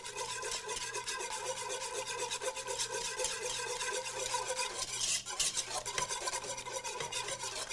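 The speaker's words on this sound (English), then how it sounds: "We're going to whisk this, and the whole time we're pouring the milk in really slowly, we're going to whisk it until it's completely blended" Eggnog being whisked steadily in a bowl while milk is dribbled in slowly, a continuous close scraping and rubbing rhythm that runs without a break and with no voices.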